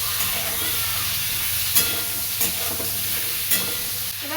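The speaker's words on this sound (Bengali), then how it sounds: "আর এদিকে আলু আর পটল এই যে ভাজা হচ্ছে" Potatoes and pointed gourd fry in a pan with a steady, close sizzling hiss that runs throughout, broken by a few brief clicks from stirring.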